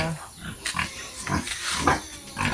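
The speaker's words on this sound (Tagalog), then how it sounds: "Ito po yung barako na yan." A native boar pig grunts repeatedly up close, a series of rough, uneven snorts and grunts coming every half second or so, loud and alone without talk.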